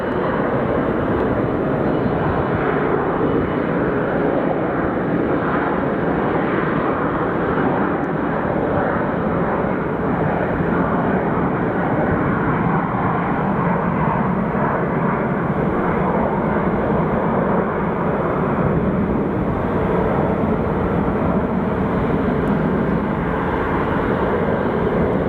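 A JSX Embraer jet departs Phoenix Sky Harbor Airport. A steady, loud jet roar fills the whole stretch and holds nearly constant, with no voices.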